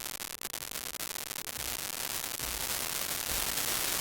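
Dense crackling static noise from a Eurorack module's dust noise particles, a fizzing wash of tiny particles with faint low thumps pulsing underneath, steady and fairly quiet.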